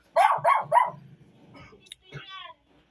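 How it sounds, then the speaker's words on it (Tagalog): A dog barks three times in quick succession, loud and close, followed by quieter rustling and a brief whine. "Ayun, kanina pa kahol ng kahol."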